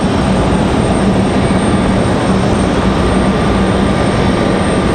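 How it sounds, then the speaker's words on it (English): Cessna Citation XLS business jet touching down at Raleigh-Durham airport, a steady loud broadband roar of engine and rushing air holding constant throughout with no voices. "An exec jet touchdown just behind us, Cessna Citation XLS, coming in from Richmond, private owner."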